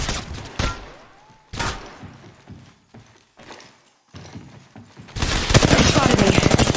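Gunfire aimed at the player in Apex Legends Mobile: sharp shots and short bursts crack repeatedly, then rapid automatic fire rattles loudly and continuously near the end, with occasional voice lines mixed in.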